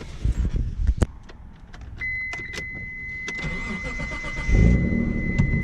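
A neglected Mitsubishi Galant VR-4 is started after sitting overnight: keys jingle and click first, then the starter cranks and the engine catches into a steady idle that swells near the end, close and loud with no voices.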